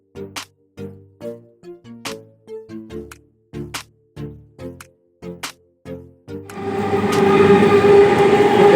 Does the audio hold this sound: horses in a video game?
no